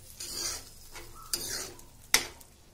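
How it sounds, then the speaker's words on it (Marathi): A spoon stirs a tomato and dal curry in a metal pot, with soft scraping strokes and two sharp metallic clinks against the pot, close and alone. "आणि चमच्यानं असं सारखं करायचं त्याला"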